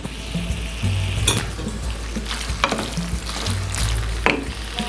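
Chili tomato pasta with peppers stirred in a hot pan, a continuous close frying sizzle with scraping utensil strokes and light clanks against the pan throughout.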